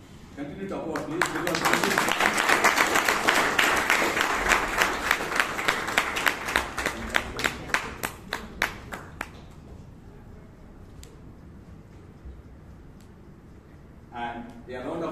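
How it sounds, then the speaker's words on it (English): Applause at a Toastmasters club meeting in Bangalore builds into a loud, dense round of clapping, then thins to a few isolated claps before dying away, with a voice speaking near the end. "Continue to applaud, please."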